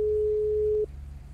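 A single steady telephone tone heard through a phone line sounds for just under a second and then cuts off, leaving a low background hum.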